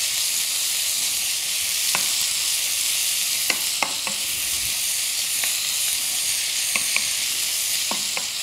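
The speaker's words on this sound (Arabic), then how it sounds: "راح ندبلوا هذا البصل شويه" Sliced onions sautéing in a pan make a loud, continuous sizzle with sharp utensil clicks and scrapes as they are stirred, with no voices.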